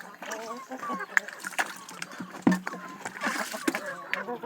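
Water splashes and sloshes in a poultry drinker as it is cleaned out on a chicken farm, with small irregular splatters and trickles close by, under someone talking throughout.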